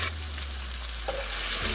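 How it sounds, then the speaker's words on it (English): Diced peppers are stirred into golden-brown frying onions in a pan. A loud, constant sizzle plays throughout, with a brief scrape of the spoon near the end. No one speaks. "stir to mix everything together"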